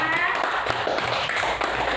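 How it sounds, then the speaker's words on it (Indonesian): Schoolchildren clap together in a classroom, a short burst of rapid, fairly loud hand claps close by, mixed with children's voices. "Tepuk tangan untuk teman-teman semuanya."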